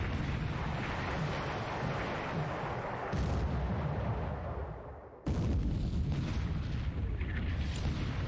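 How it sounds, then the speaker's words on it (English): Battleships including Colorado and West Virginia fire on a convoy in a World War II Pacific war game: a continuous wash of deep, rumbling naval gun booms, cut off abruptly twice and resuming at full loudness. "Here's our battleships intercepting the convoy."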